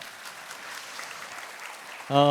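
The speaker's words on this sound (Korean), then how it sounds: "박수 한번 부탁드리겠습니다" Audience applause at a parent talk concert on education runs as a soft, steady patter, then cuts off near the end as a tonal sound, music or a voice, comes in louder.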